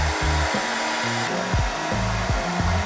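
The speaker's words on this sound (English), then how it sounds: "Step 2, blow dryer and brush." A hair blow dryer runs steadily and loudly close by while hair is brushed, its whooshing airflow shifting in pitch with periodic dips as the brush strokes pass through.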